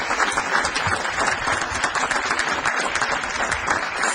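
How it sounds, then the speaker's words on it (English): A council chamber audience gives a steady, full round of applause for youth soccer coaches, a continuous wash of many clapping hands that holds evenly throughout. "let's give you a round of applause"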